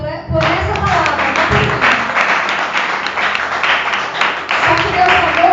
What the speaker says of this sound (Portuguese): Aplaude os céus por essa palavra.